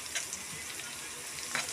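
Chopped onion and ginger sautéing in a hot pan give a steady close sizzle with a few brief clicks of stirring, and no voices are heard.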